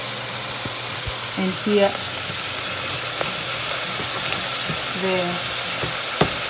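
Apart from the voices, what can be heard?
garlic frying in pan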